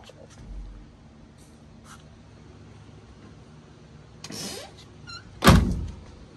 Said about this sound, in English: Doors close like new.